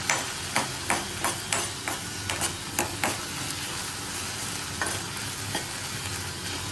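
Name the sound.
mixing vegetables with chili and turmeric in a pan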